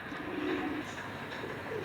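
Soft, low cooing from pigeons, faint against a steady background hum, with a few drawn-out murmuring calls across the stretch.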